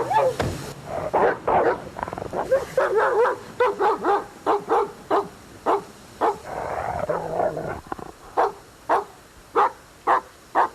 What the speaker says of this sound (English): When we got there, the dog started barking.